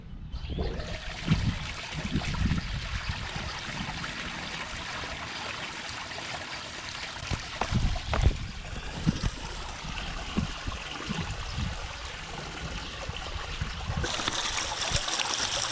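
Water trickles and splashes steadily down a small backyard pond waterfall in a broad, continuous wash, with a few thumps partway through and the flow brightening near the end.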